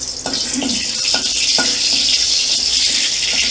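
Two dried chillies and a bay leaf sizzle in hot oil, tempering for a Bengali moong dal, giving a continuous loud hiss with a few soft clinks and stirring knocks underneath.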